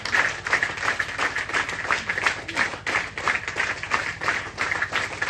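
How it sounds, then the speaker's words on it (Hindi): A crowd at a youth Bible camp and drug-awareness program in Boleng, Siang district applauds loudly, dense steady clapping that keeps up without a break. "जोरदार ताली बजा दीजिए"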